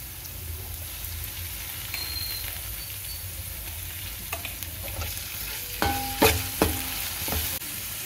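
Ginger garlic paste frying with chopped onions in a pan for tomato rice, a steady low sizzle with occasional scraping stirs and a few brief metallic clinks near the end.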